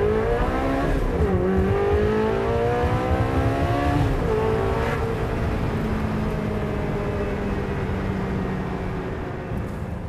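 Ferrari 360 Challenge Stradale revving and launching with an F1-style gearbox, engine pitch sweeping up through quick upshifts, then settling into a sustained high, loud drone that slowly fades.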